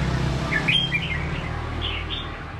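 Red-whiskered bulbul chirping in a home cage setting, a few short high tweets scattered over a steady low background hum, moderately near.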